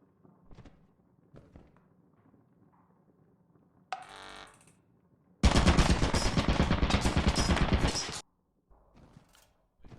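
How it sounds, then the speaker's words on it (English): An automatic turret in Lethal Company, inside an old mansion, opens up with a loud, sustained burst of rapid machine-gun fire lasting about three seconds. A shorter mechanical whir comes just before it, with quiet footsteps and thuds around it. "But it won't protect you if the turret was already started firing."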